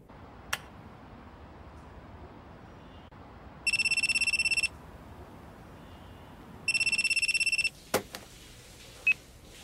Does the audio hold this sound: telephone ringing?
yes